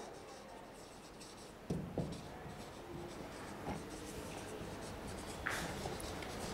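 Steady scratchy strokes of writing on a board during a maths lesson, soft and continuous under faint room noise, with a few small knocks of the marker or chalk.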